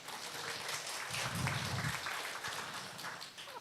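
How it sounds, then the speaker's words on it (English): An audience applauds a speaker at an international science and education seminar, a sustained, moderately loud spread of clapping with a slightly fuller swell in the middle before it begins to thin. "So please give him applause one more"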